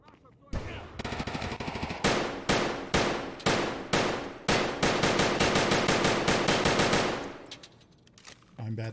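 Automatic gunfire in Escape from Tarkov, loud and close, fired in several rapid bursts separated by short pauses, then one long sustained string of shots before the firing stops.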